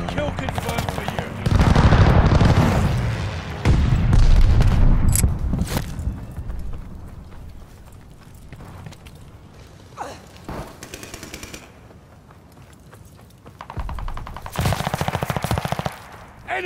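Call of Duty battle gameplay brings bursts of loud machine-gun fire and strafing, with heavy rattling volleys, scattered single shots and quieter gaps, while voices shout over the action.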